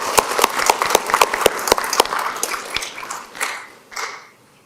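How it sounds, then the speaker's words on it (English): Scattered audience clapping at a school board of education meeting, honouring first responders and law enforcement: a few sharp individual claps that thin out and fade over several seconds. "let's give them a round of applause, too"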